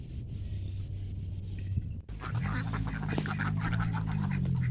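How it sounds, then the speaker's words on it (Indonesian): A flock of laying ducks quacks steadily while feeding on fresh indigofera leaves, a busy, close chorus of overlapping calls over outdoor farmyard background noise, with no talking. "Bebek-bebek petelur saya, walaupun diberikan daun Indigo Vera segar seperti ini, mereka mau."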